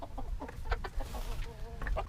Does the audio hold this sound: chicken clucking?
yes